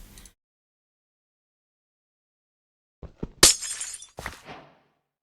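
A brown stained glass block breaking in a video game: after near silence come a few small clicks, then two quick, bright shattering crashes close together, ringing briefly.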